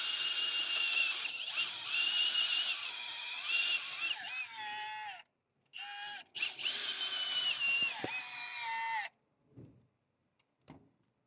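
Power drill boring out a seized, rusted fuel injector on a Vauxhall Vivaro engine, running in long whining bursts with brief pauses and changing pitch, close and loud, followed by a few faint knocks.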